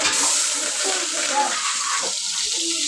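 Hot oil crackling in a pan while curry is being cooked, a soft continuous sizzle close by with faint clinks, no talk over it.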